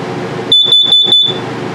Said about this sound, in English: And carbon monoxide detector right here. I'll set it off for you so you can hear it.